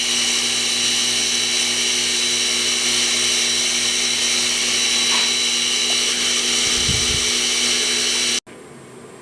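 A machine tool drills with a number 35 bit on a steam engine part, giving a steady high-pitched whine with a rhythmic pulsing beneath it, a brief low thump near the end, then an abrupt cut to quieter sound.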